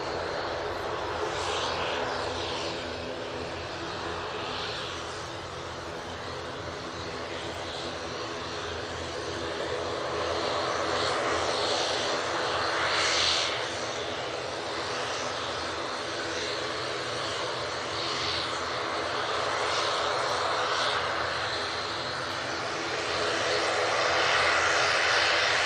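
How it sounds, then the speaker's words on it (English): EasyJet Airbus A320neo jet airliner at Manchester Airport, a steady broadband engine roar that swells and holds across the whole stretch, moderately distant, with a voice talking over it. "EasyJet Neo. Well, it's an A320 Neo even."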